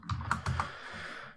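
Typing on a computer keyboard, a quick burst of four or five close, clicky keystrokes, then a faint fading tail.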